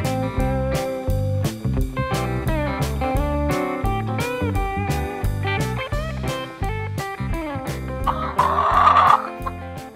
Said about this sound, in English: Come out to their chicken coop, and they are all so upset about us being out here right now and making all kinds of noise